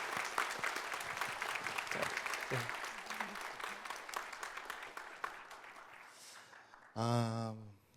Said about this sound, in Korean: 잠깐 큰 박수, 환영의 박수 보내주세요.